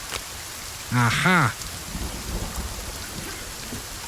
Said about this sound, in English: The rain coming down is very loud.